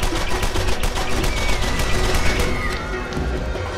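A gun in the video game Borderlands 1 fires a rapid string of loud, sharp automatic shots for a few seconds, then the bursts thin out and fade.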